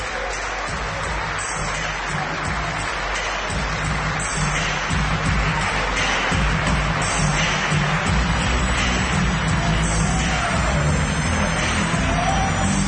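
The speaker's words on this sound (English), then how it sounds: "Listen to the crowd." A wrestling match crowd cheers and claps after a tough victory, a loud, continuous roar of noise filling the whole stretch, with no clear individual voices.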